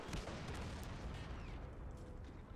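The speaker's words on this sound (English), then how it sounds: "I love the way it sounds when these 150mm L38 guns are firing at the enemy." German 150mm L38 guns firing in the World War II strategy game Men of War, a dense, continuous roll of booming shots and crackling gunfire, loud and close, with no voices.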